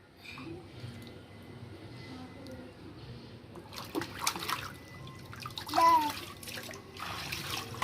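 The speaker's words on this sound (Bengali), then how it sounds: "মাথায় জল দাও" Water is poured over a child's head during a bath, with splashing and trickling bursts growing louder midway, a faint voice under the running water.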